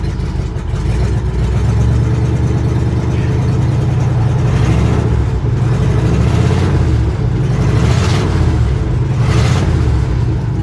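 An old, long-abandoned International truck engine runs close by with a loud, steady mechanical rumble, rising in short revs now and then without a break.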